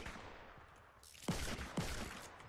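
Revolver gunshots in Fortnite, two sharp booming shots about half a second apart, each trailing into a rumbling echo over faint background game noise.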